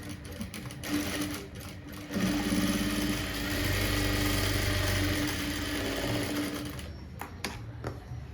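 A sewing machine stitching a dart on a blouse, running in a steady mechanical whirr for several seconds, bracketed by short bursts and clicks at start and end, fairly close and with no speech over it.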